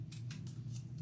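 Scissors snip through the ends of a zipper on a leather crossbody bag, several short crisp cuts in quick succession, close and quiet over a low steady hum.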